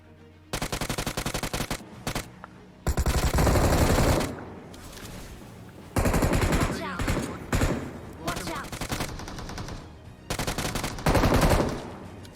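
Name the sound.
gunfire in BGMI video game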